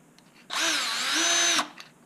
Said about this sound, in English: I'm going to put a couple screws down in here, just right next to the hole